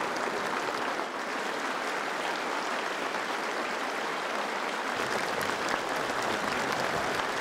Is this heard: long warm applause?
yes